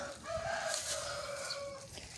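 An old Indio Gigante rooster crows in one long, drawn-out call at moderate distance, with faint farmyard background.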